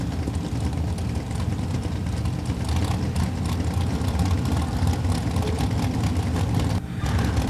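A small-block engine in a 1994 Spitzer dragster from Hillsboro, Ohio runs loud and steady at a drag strip, a thick low rumble holding throughout with a brief dip near the end.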